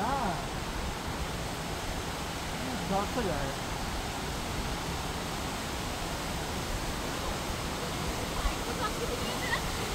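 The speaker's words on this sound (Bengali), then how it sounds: "নদীর জল বয়ে চলেছে, ঝর্ণা" Steady broadband rush of river water flowing and a waterfall near a root bridge village in Meghalaya, continuous and fairly loud throughout, with faint voices briefly audible beneath it.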